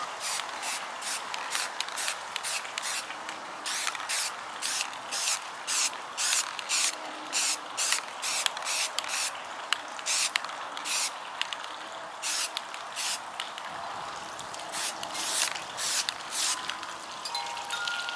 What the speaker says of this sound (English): I have some black spray paint, so I'm just gonna spray them all really quick.